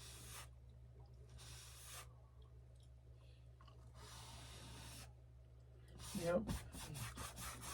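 Wood rubbed by hand to smooth off excess paint, several short bursts of scraping and rubbing separated by pauses, then a quicker run of strokes near the end, close and fairly quiet.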